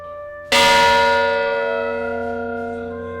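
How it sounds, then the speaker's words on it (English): The ceremonial bell salvaged from USS Arizona is struck once at a Pearl Harbor remembrance ceremony, ringing out loud and clear after a brief hush, its bright metallic tone slowly decaying with a long sustained hum. "each branch was given a ceremonial ringing of the bell that was salvaged from the USS"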